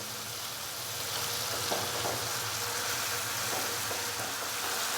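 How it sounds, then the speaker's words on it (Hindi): Tomatoes frying in a pan and pressed down with a spatula for a dhaba-style dal chana fry, giving a steady, close sizzle with faint scraping underneath and no voices. "स्पैचुला की मदद से इस तरीके से थोड़ा सा इसको दबाएंगे ताकि टमाटर थोड़े से मैश हो जाएं"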